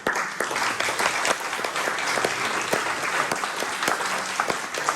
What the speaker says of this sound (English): I want you guys to give yourselves a round of applause because you deserve it.